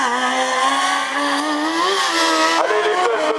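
A Speed Car race car launches on a timed slalom course, its engine holding a loud, close, rising and wavering rev for a few seconds with one sharp gear-change dip near the end.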